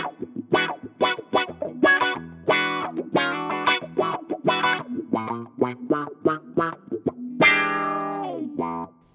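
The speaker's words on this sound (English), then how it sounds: "attach it to your favorite wah control and set this up to give you more of the auto wah thing" Electric guitar notes and chords through an auto-wah effect on a Fractal Audio modeler, a sweeping, vowel-like filter that opens and closes on each attack, played steadily with no voices.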